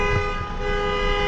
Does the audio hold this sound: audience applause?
no